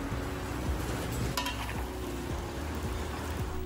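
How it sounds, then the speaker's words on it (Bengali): Large chunks of meat fry in hot oil for Uzbek plov-style biryani, a continuous sizzle under faint metallic clinks of long iron spoons stirring, with no talk. "বড় বড় টুকরো করে কাটা মাংস সরাসরি গরম তেলে ছেড়ে দেওয়া হয়।"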